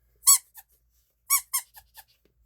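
A squeaking toy Halloween decoration gives two bursts of short, high squeaks, one sharp squeak and a smaller one, then after a pause a quicker run of four or five fading squeaks, close and alone.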